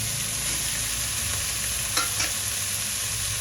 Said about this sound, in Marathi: पनीर छान परतून घालू.